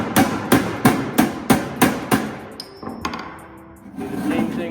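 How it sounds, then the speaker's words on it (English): Sheet metal bent on a hand brake is hammered over at the 1-inch bend, six or so sharp, ringing metallic blows in a steady rhythm, close and loud, then a brief high ring and softer handling noise. "and then hammer that over."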